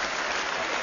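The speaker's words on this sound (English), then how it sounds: "that's the first time I've ever received such applause" Applause in a parliament chamber is a dense, steady clapping from a large crowd that fills the whole short moment.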